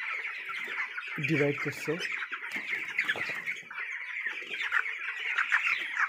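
Chickens cluck and squawk continuously on a poultry farm holding about a thousand birds, a dense, busy chorus of close and distant calls, with someone speaking briefly over the flock.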